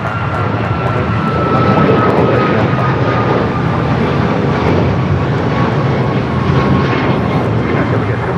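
Fixed-wing aircraft engines roaring steadily near a runway at Los Angeles International Airport, a loud continuous rumble with a faint tonal whine running throughout.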